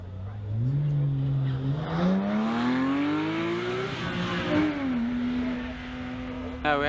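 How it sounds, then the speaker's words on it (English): A Porsche race car climbs the hill at a hill climb event, its engine note rising through the gears as it accelerates and holds a high steady pitch, heard at a distance, with a commentator talking over it. "And the first of our Porsches is on the hill now."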